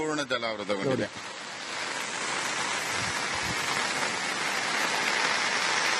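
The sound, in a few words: continuous rain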